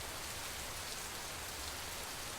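Heavy coastal monsoon rain in Karnataka falls as a steady, even wash of noise, a faint but unbroken hiss of drops with no voices over it.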